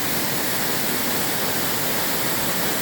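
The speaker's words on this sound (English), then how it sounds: "And that waterfall plunges, I think, 90 feet down." Roaring 90-foot waterfall at Ricketts Glen, a steady, loud, unbroken rush of falling water filling the whole clip with no other sounds.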